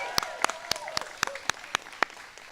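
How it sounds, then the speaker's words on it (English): Sparse, individual hand claps ring out distinctly at an outdoor community press conference celebrating a greenest-block contest winner in Brooklyn, a few sharp claps spaced evenly over a couple of seconds. "let's give the winning block again another round of applause"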